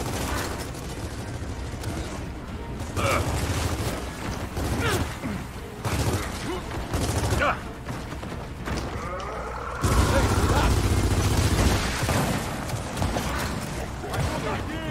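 Gunfire and explosions in the video game Gears of War 4 come in bursts and bangs over a busy mix of game effects and clanks, loud and continuous, with a player talking in between.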